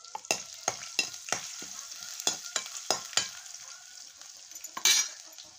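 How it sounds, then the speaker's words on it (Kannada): Garlic fries in hot oil in a pan with a bright, crackling sizzle, broken up by sharp scraping taps of a spatula stirring at an uneven pace. "ಚರ ಚರ ಅನ್ನೋತನ ಅದ್ರಾಗ ಚೆಂದಾಗಿ ಬೆಳ್ಳುಳ್ಳಿ ಹಸಿ ವಾಸನೆ ಹೋಗೋವರೆಗೆ ಫ್ರೈ"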